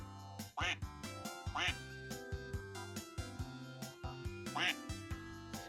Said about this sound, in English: A late little quack there in the background